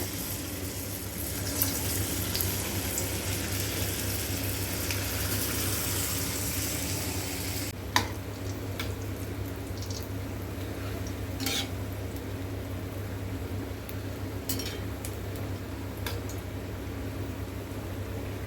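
Sago bonda frying in hot oil on a stove at medium heat, a steady, even sizzle that runs throughout, with one brief clink near the middle.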